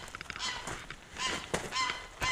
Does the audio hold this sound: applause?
no